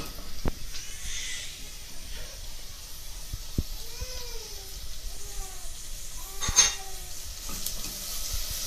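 Peppers are added to browned onions in a pan and stirred, a faint steady sizzle underneath scattered spatula taps and clinks, with a few thin squeaky scraping sounds along the way.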